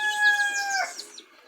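Domestic chickens, a mother hen with chicks and cocks, giving a brief clear call with a crow-like drawn-out tone followed by a few soft clucks, close and alone.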